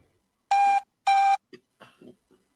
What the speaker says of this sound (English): Someone get that phone.